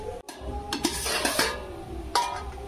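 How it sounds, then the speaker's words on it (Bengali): Sugar being stirred into water with cracked cardamom pods in a pan over a high flame, a few scraping strokes of the spoon against the metal over a faint background hiss. "গ্যাসটা আমি জোরে দিয়ে চিনিটা গুলিয়ে নেব ভালো করে।"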